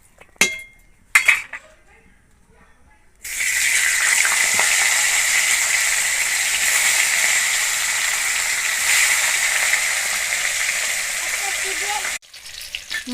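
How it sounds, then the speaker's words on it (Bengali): Hilsa fish fry in hot oil in a wok, giving a loud, steady sizzle that lasts about nine seconds. Utensil clinks and faint kitchen handling come before the sizzle and again after it. "মাছগুলোকে এবার ভেজে নেব।"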